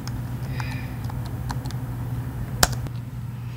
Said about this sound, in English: And then you just type in your password.